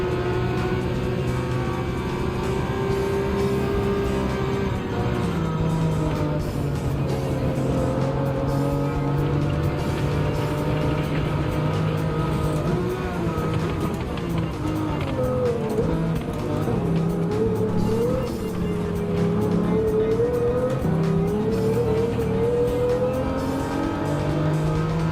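Race cars in a Gran Turismo 7 online race, featuring Porsche, engines droning and revving continuously with shifting pitch as cars accelerate and pass, loud and steady throughout, with occasional tire squeal and no talking.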